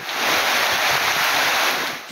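Rough Bay of Bengal surf at Kuakata, Patuakhali, churned up by a low-pressure system, forms a continuous loud, broad roar of breaking waves with wind noise, steady throughout and easing slightly at the very end.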